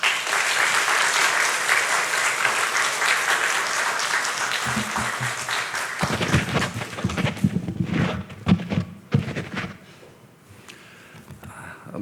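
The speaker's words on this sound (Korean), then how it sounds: "나오실 때 큰 박수로 모시겠습니다" A church congregation claps warmly to welcome an elder to the pulpit, a dense steady applause that thins out after about six seconds into scattered claps, shuffling and footsteps, with a few faint voices.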